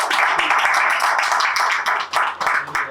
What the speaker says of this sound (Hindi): पहले तो आप लोग अपने लिए जोरदार तालियां बजाइए एक बार